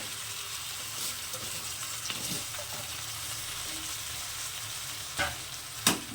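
Washed rice fries with spice paste in a pan for a Bengali chal muri ghonto. A steady, even sizzle runs throughout, broken by a few sharp scrapes of stirring.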